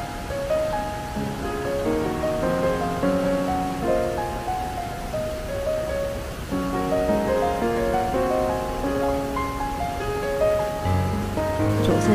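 A clear mountain stream fed from the Xueshan range flows steadily at Dezikou Creek in Jiaoxi, Yilan, near an old water intake channel and rock cave. Its continuous broadband rush sits beneath prominent background music.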